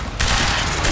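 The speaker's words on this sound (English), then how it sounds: "What are you shooting at" Rapid, dense gunfire from the video game Quantum Break, a loud continuous burst of overlapping shots that starts abruptly and fills the whole moment.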